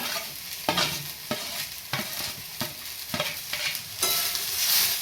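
Chopped greens go into a pan of browned onion for a Marathi bhaji, sizzling steadily while a spatula scrapes through in regular strokes about every half second, close and clear, with no talk.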